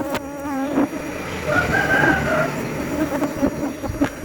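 Wild hollow-nesting bees buzz around a hive in a tree cavity. The droning swarm is close and continuous, with individual bees whining past near the microphone and a few sharp knocks or cuts in between.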